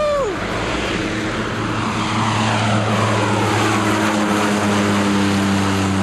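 A floatplane's propeller engine drones loud and steady as it takes off from a river, with a strong constant hum and rising pitch throughout.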